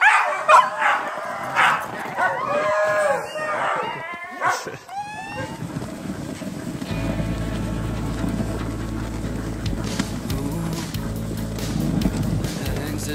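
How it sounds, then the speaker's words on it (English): Sled dogs at a dog sledding outfit in the Haliburton Highlands of Ontario, heard as a team barking and yipping in bursts, with whimpers mixed in, before a steady low rumble takes over. "I'm here with my sled dog team"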